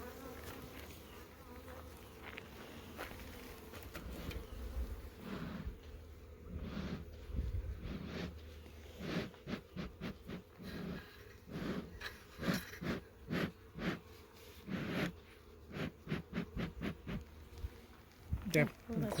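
Honey bees hum steadily around a large cluster on their comb, their buzz close and continuous, broken by clicks, handling sounds and the occasional murmur of a nearby person.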